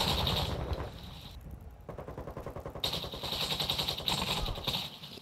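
Dense automatic gunfire in a shooter video game during a hardpoint match, rapid bursts running almost continuously and loud throughout, with a brief lull partway through.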